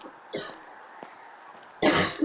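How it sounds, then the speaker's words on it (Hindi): An elderly woman coughs in a staged audio drama, a short hacking cough near the start and a louder, harsher burst at the end, with quiet pauses between. "पर आजकल रहते रहते काकी की खांसी इस खामोशी को तोड़ने लगी।"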